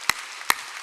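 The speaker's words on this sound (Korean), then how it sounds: "박수 치려면 세게 치라고." A church congregation at a Wednesday worship service claps hard. Two loud, sharp claps ring out close together, with quiet room tone between them.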